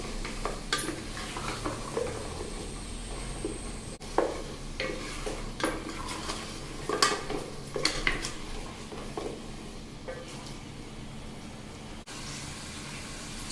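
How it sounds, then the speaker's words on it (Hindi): Chicken frying in oil in a pot for Sindhi biryani, with a steady sizzle broken by clinks and stirring scrapes of a utensil, no talking. "इसी ऑयल में चिकन भी फ्राई कर ले रहे हैं।"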